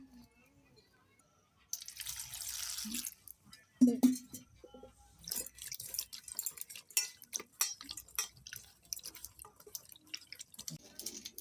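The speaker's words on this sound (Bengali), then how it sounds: "এবার আমি পটলগুলো ভালো করে ধুয়ে নেব।" Pointed gourds are washed in water, with splashes, drips and light clinks of a pot coming in irregular bursts, mostly quiet and close.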